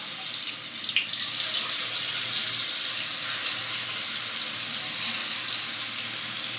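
Koi fish dropped into a hot wok hiss in a steady, loud, broadband sizzle that runs throughout with a few brief spatter bursts.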